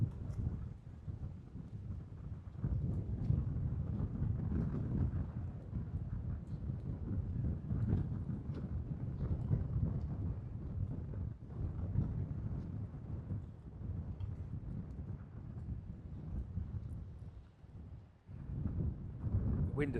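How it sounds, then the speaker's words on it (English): Wind blowing at Sanur Beach in Bali, a steady, loud low rumble of gusts against the microphone that keeps up throughout, with a brief lull near the end. "The wind has certainly got up since we've been down here."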